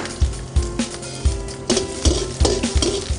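Mustard seeds and garlic frying in about two spoons of hot oil for gongura prawns, with repeated sharp pops and crackles over a steady close sizzle, plus a few utensil knocks.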